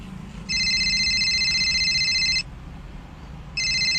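A mobile phone rings indoors with a steady electronic tone in two bursts separated by a short pause, fairly clear over a low background hum.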